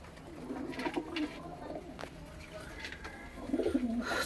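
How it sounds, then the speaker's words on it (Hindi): Punjabi Malwai pigeons, an original flying breed, cooing in soft low repeated coos, with a clearer burst near the end, over faint background noise. "बहुत अच्छा कबूतर है भाई पंजाबी, ओरिजिनल ब्रीड है भाई, उड़ने वाले कबूतर हैं"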